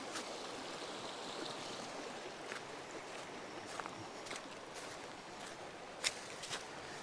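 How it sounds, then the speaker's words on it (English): Creek water along the Chattooga River Trail rushes in a steady, soft broadband flow, with occasional faint splashes and ticks and no voices. "Now we're along this creek here."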